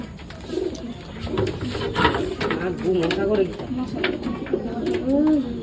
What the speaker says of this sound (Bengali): এটা আমার লগ হয়েছে আমার কবুতরের লফট।